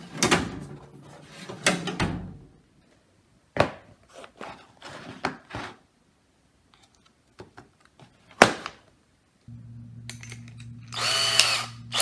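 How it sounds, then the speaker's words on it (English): A power drill bores holes into a wooden mace head, heard as several short, close whirring bursts separated by quiet pauses and handling knocks, then a longer steady drone. "you're going to drill a hole right here, right for the handle to go in"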